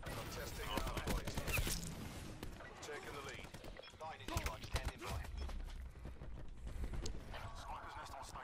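Scattered gunshots ring out in a shooter game as the player fires, mixed with hoofbeats and other game noise while people talk over it.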